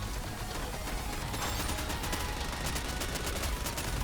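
Dense, continuous bursts of gunfire and explosions from the Goddess of Victory video game, loud and rapid with no pauses, forming a wall of shooting noise.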